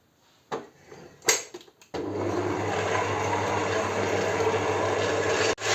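Electric mixer whipping 300 grams of softened butter while cooled homemade syrup is poured in, a steady loud motor whir running continuously after a few short knocks and bumps at the start.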